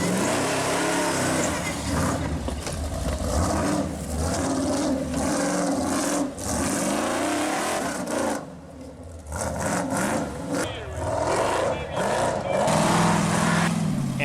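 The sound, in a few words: mud racing truck engine at full throttle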